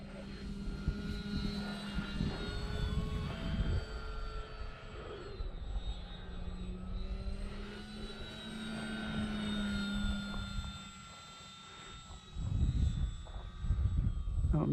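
An E-flite Pitts S-1S 850mm RC model airplane on a 3S battery flies overhead outdoors, its electric motor whining and shifting pitch as it passes near and away, at moderate loudness with no talking.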